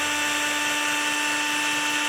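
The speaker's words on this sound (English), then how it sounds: "when we set my drill to fast speed" A high, steady electric whine from a power drill spinning fast, used to test a Datsun 260Z/280Z distributor pickup coil, constant and loud throughout with no pauses.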